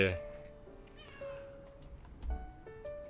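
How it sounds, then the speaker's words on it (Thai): A cat in the life-simulation game inZOI gives one short, clear meow, followed by faint tonal game sounds and soft clicks. "แมว"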